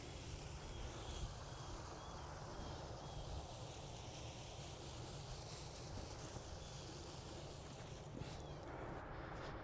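Wind blows steadily on an open farm field, making a loud, constant rumbling buffet against the microphone that continues throughout with no voices.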